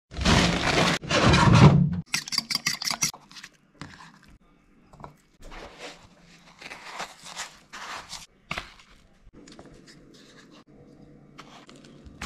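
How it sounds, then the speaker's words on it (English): A bream is scaled outdoors with a loud burst of rough scraping at the start, then quieter irregular scratches and rasps scattered through the rest. "I'm just gonna quickly scale the Bream outside"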